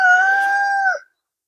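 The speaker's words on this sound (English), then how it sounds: "That's the cockerel." A single loud crow from a nearby cockerel, a sustained call lasting about a second before cutting off into silence.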